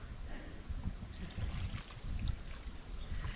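A river stream flowing in Croatia, with a faint, steady trickling and gurgling of water close by, low and soft throughout with no voices.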